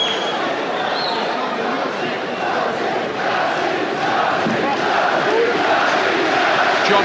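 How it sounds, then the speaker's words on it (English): A boxing crowd roars in a big arena as featherweight Prince Naseem Hamed makes his ring entrance in 2002, a dense, steady wall of cheering and shouting that swells slightly and carries on throughout, with no clear single voice. "he gets a fantastic reception here from the crowd who seem glad to see him back"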